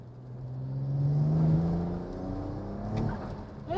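A BMW E92 335i accelerating hard in third gear, its engine note climbing steadily as revs build, steady and fairly close with no talk over it.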